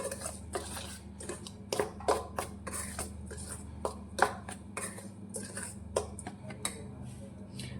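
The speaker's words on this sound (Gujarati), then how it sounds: "હવે બધી જ વસ્તુને આપણે સારી રીતે મિક્સ કરીશું।" A spoon scrapes and clinks against a bowl in quick irregular strokes as batter ingredients are stirred together, close by, with low background hum.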